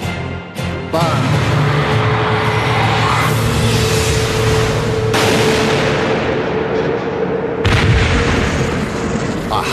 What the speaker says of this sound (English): A gun that's transformed the power of magnets to launch projectiles almost 8 times the speed of sound